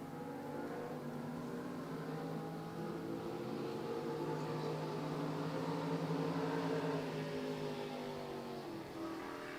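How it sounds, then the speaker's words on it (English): A powerboat engine in a Grand Prix race at Paris drones at a distance, its pitch rising and falling as the throttle is worked on and off, steady and moderately faint with no voices over it. "You could hear Zach Chenault on and off the throttle."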